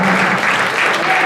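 A convention audience at the Fluufff opening ceremony keeps up thick, loud applause for the staff, an unbroken wash of clapping with a faint voice underneath.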